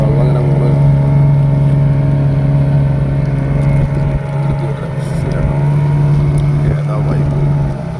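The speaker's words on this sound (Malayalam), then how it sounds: "എഞ്ചിൻ സ്റ്റാർട്ടാക്കി." A motorboat engine drones in a steady, loud hum on an estuary where a river meets the sea, running continuously with water noise and some voices in the background.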